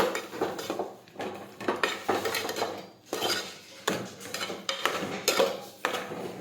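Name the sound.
sautéing bottle gourd curry with sugar in a pan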